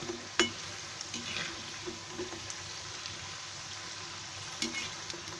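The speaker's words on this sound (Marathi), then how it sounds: "ते असे चांगले तळून काढायचे, थोडा रंग यायला द्यायचा नाही" Shankarpali deep frying in hot oil gives a steady, soft sizzle and crackle throughout, with a few sharper pops and spatters, and no voices.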